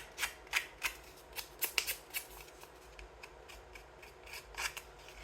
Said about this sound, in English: you could also use your scissors and just go like this